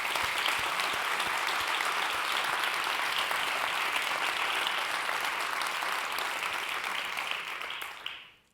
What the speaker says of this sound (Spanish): Para todos ellos os pido un aplauso de reconocimiento por el curro que se han pegado